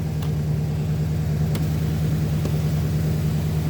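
A 1979 Lincoln Continental engine runs with a steady, loud mid-pitched rumble, slightly uneven as though misfiring, with a few faint clicks over the continuous idle-like drone and no voices.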